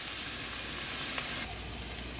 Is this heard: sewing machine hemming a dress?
no